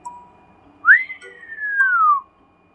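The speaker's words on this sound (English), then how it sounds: "let out a low, impressed whistle" A single low, impressed whistle rises sharply and then glides slowly downward for about a second and a half, clear and close in a quiet room.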